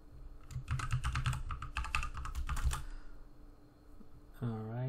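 Rapid bursts of clicking keystrokes on a computer keyboard come in quick clusters, close and fairly loud. They stop, and a voice starts speaking at the end.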